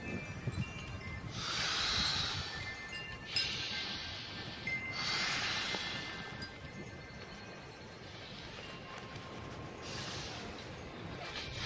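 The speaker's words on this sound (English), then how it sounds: "let's see how many breaths this takes." A hiker blowing breaths into an inflatable piece of hiking gear, a few long airy exhales spaced a second or two apart, fairly faint, with no talk.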